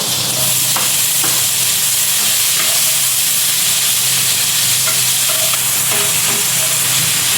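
Onion frying in melted butter in a pan, a steady loud sizzle and hiss with occasional stirring scrapes throughout, no talking.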